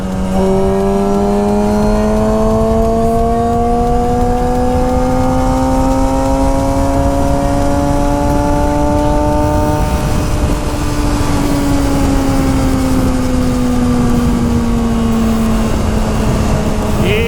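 A motorcycle engine runs steadily and loudly, its pitch rising slowly as it revs, then easing back down, with no voices.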